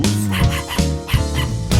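A voice imitates a neighbor's yappy wiener dog, with repeated short sung yaps and yips in a steady rhythm, close and fairly loud, over musical accompaniment.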